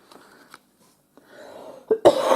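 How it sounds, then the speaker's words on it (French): A person coughs a few times, faint at first, then a loud, harsh cough bursts out near the end, close and alone. "Excusez-moi, je fais que tousser."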